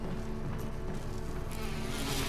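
Swarm of bees droning around a giant beehive in the Resident Evil Remake video game, a dense continuous buzz at moderate level with no voices.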